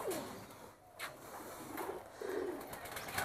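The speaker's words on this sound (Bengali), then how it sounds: "তো আবলুক ম্যাড্রাস পায়রাটা হচ্ছে এইটা, এই খাঁচায় রেখেছি।" An Abluk Madras pigeon coos in a cage, its low soft calls repeating a few times at close range against a faint background hiss.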